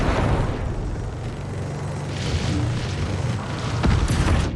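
Weapons fire and explosions in a space battle in the video game Homeworld 3, a loud, dense wash of booming blasts and rumbling impacts that continues throughout.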